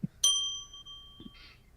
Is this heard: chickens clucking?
no